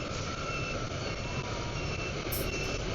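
A huge lorry moves through Saigon street traffic, heard as a steady, loud engine rumble that never breaks, with faint beeping in the background.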